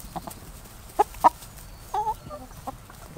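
Chickens, including barred rocks, cluck in a large run holding a merged flock, with a few short nearby clucks and a brief drawn-out squawk against quiet background.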